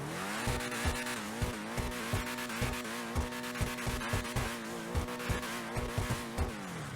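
The Benefactor LM87 supercar in GTA Online holds a steady high engine drone, overlaid by a regular pulsing beat like a throbbing rhythm throughout, with harmonic tones shifting slightly near the start and end.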